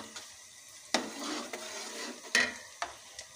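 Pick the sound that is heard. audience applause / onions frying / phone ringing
onions frying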